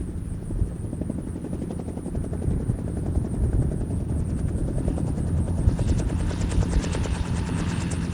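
A Magni gyroplane flies near a light sport aircraft show at an airport, its rotor and engine making a steady, loud, throbbing drone with a rhythmic beat and a faint high whine.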